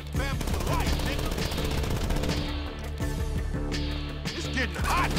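Machine-gun bursts and rapid shots from a GTA 5 alley shootout, loud and close, firing in long strings with brief gaps, while voices shout over the fight.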